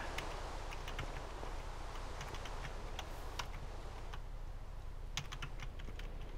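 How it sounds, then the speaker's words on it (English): Steady rapid typing on a computer keyboard, close and fairly quiet, with clustered key clicks running continuously over a low room hum and no talking. "I've noticed in my videos that my keyboard comes up a lot"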